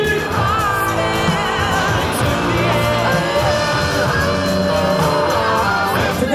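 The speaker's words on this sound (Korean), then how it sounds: "박수와 함성으로" Crowd at a 2018 Thank You Festival fan event for a sports team, a loud, dense roar of cheering, shouting and whooping that holds steady throughout.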